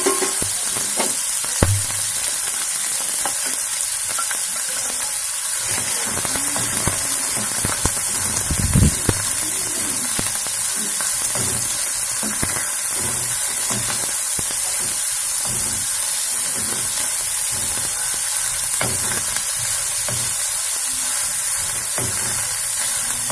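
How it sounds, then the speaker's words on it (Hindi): Two medium chopped onions frying in hot oil for a homemade tomato sauce pasta, giving a steady, close sizzling hiss that runs unbroken, with occasional stirring clinks and no talking. "हमारा ऑयल गर्म हो रहा है। अब हम इसमें अपने अनियन डाल देंगे।"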